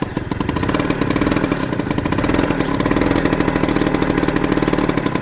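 A Yamaha motorcycle engine runs close by with a loud, even idle, its rapid regular exhaust pulses steady for the whole stretch and no voices over it.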